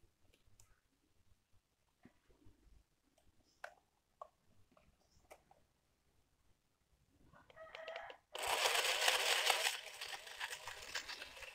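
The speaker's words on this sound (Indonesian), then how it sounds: "sekarang kita akan blender" An electric blender whirs into a loud, steady roar partway through, mixing a weight-gain drink with about 100 ml of water; quiet faint clicks and handling sounds come before it starts.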